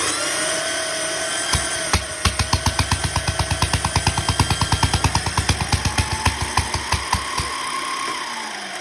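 A 1912 Indian motorcycle engine idles and revs with a fast, steady popping beat, loud and close, running on its own without any talking.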